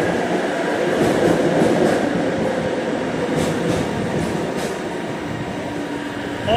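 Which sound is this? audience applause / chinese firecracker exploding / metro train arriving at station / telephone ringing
metro train arriving at station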